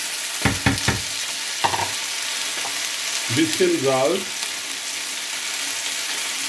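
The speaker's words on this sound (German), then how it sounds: "Ja, und anbraten lassen, so Kartoffeln." Potatoes fry in oil in a pan with a constant sizzle, punctuated by a few sharp clatters of stirring, while a voice speaks briefly in the middle.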